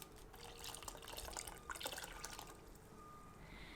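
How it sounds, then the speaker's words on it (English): Water poured into a pan of yogurt sauce mixed with flour and egg, a quiet close trickling and splashing pour that tapers off, with no talk. "and then add some water."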